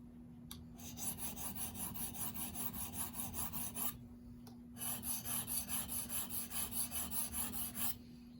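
A D2 steel knife drawn across a 600 grit sharpening stone makes quiet, rhythmic scraping strokes. They come in two runs separated by a short pause, close and steady.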